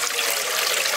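Water pours steadily into an idli steamer pot while eel fish is being prepared for steaming, a constant broadband rushing splash with no talk over it.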